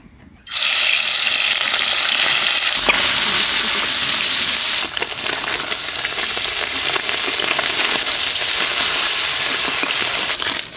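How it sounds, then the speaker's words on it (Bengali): Small fresh mourola fish frying in hot mustard oil in a wok, a loud, steady, close-up hiss and crackle that starts abruptly and runs unbroken throughout, with occasional sharper pops. "মাছ ভাজা হয়ে গেছে, এখন মাছটা তুলে নেব"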